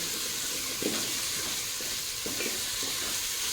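Ginger-garlic paste frying on high flame, a dense constant sizzle with a few brief stirring scrapes, close and steady with no speech.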